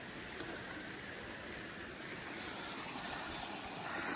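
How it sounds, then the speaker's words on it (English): Thayer Brook runs strongly along a hiking trail on a hazy, hot, humid day, a steady broad rushing and babbling of water that stays even and nearby. "Thayer Brook is flowing quite well"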